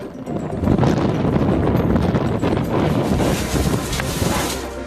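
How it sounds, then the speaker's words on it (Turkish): Strong lodos wind in Kahramanmaraş blows in a loud, continuous roaring gust with heavy buffeting across the microphone, sustained throughout and without talk. "rüzgar hızını daha da arttırdı"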